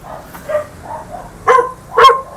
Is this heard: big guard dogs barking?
yes